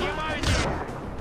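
Mounted machine gun in Far Cry 4 fires a short, loud blast with a booming tail, close and heavy, while a voice talks over it.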